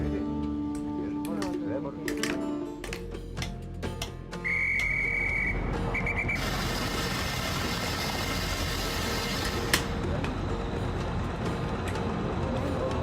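A steam-era Orient Express locomotive whistle in a mystery video game gives a steady, piercing blast of a few seconds, set against a rumbling train engine and game ambience with a voice speaking.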